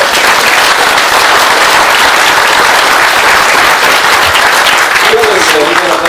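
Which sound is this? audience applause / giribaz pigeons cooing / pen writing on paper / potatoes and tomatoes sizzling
audience applause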